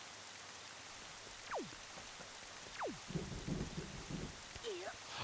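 Rain falls steadily in Zelda: The Wind Waker, a constant hiss with a few quick whooshing sweeps and a short stretch of talk partway through.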